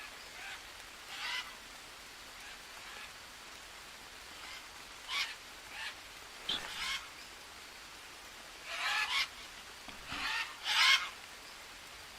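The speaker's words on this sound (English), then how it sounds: "Watch where these parrots go." Parrots in the jungle survival game Green Hell let out harsh, scattered squawks, sparse at first and then louder and more frequent near the end, over a constant hiss of rainforest ambience.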